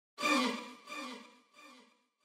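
A one-shot drum sample from an old drum kit, processed with an effect, plays as three separate decaying tonal hits that fade in turn, alone and without talk.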